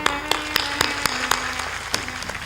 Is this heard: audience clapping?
yes